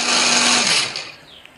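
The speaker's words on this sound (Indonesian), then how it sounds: "Kemudian kita akan haluskan bumbunya." Electric blender grinding Indonesian spice paste with a little water or cooking oil, a loud steady whirring motor that runs for under a second then winds down and fades.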